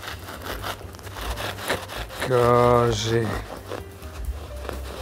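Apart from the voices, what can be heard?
sawing a baguette with a serrated bread knife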